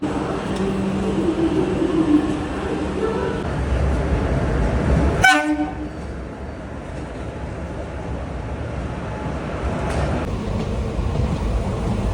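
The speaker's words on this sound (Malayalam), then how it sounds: "ട്രെയിൻ ഇപ്പോൾ വരും" The Guruvayur Express arrives at a station, its horn sounding in a sharp short blast amid a steady rumble of rolling train noise, with a fainter second toot later.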